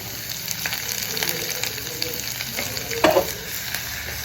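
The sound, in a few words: onion and ginger frying in oil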